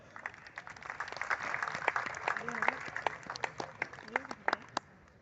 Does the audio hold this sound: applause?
yes